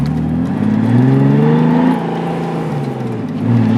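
Turbocharged BMW E36 engine revving nearby, a loud, deep rumble that swells and eases in a few rising and falling revs, with the revs hanging before dropping, and no talk.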